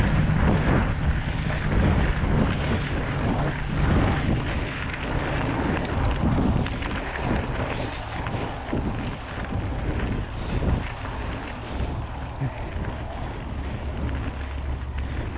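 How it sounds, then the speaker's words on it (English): Chilly early-season wind buffeting the microphone at a mountain bike park, a continuous loud rumbling roar with gusts throughout. "Chilly wind."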